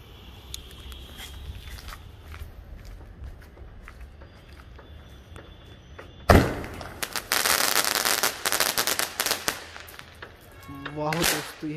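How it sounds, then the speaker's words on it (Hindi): Krishna brand Seven Warrior colour shot firecrackers fire off in a rapid, loud crackling burst of explosions lasting several seconds, following quieter background noise with light talk and footsteps. "अब हम लोग जलाने वाले हैं कृष्णा रजिस्टर्ड ब्रांड का सेवन वॉरियर कलर शॉट्स"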